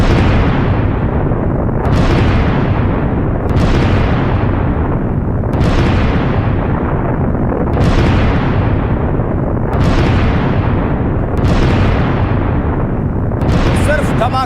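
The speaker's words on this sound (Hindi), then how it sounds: "सिर्फ धमाके ही धमाके सुन रहे हैं आप।" Repeated heavy explosions from military strikes in Iran boom roughly every two seconds, each a loud, broad blast that decays into a long rumble, one after another over a continuous roar.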